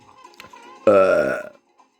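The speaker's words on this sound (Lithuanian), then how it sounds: "kaip aš atsiraugė" A single loud, voiced burp from a person rumbles for about half a second after some quiet background murmuring, then stops.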